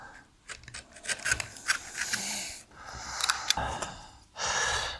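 Reconstituted felt from an acoustic wall panel is cut close up, giving rough scraping, rasping strokes and short crisp snips in irregular bursts, with one longer rasp at the end.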